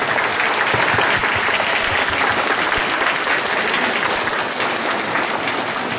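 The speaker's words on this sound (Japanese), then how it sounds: "大きな拍手を送ってください。" Sustained loud audience applause at a Sanyo Girls' School orchestra club concert during a school culture festival, dense steady clapping filling the whole stretch with no voices over it.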